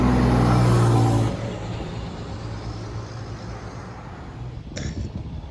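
Played-back truck engine from a video, a loud revving roar that drops off after about a second into a lower rumble with a brief higher burst near the end.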